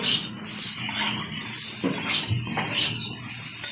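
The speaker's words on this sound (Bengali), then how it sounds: "ভালোভাবে একটু নেড়ে চেড়ে নিচ্ছি" A utensil stirs chopped greens with tomato and chillies in a hot pan, making a continuous frying hiss broken by soft scraping and a couple of light metallic knocks, with no voices.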